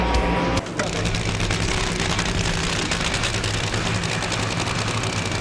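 Nitro funny car engine at a 2009 drag race at Atlanta Dragway, a loud, continuous roar that briefly dips near the start before holding steady and close.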